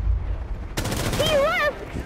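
First-person shooter gunfire erupts partway through as a loud, dense burst of shots that masks the background, and a voice speaks over the shooting.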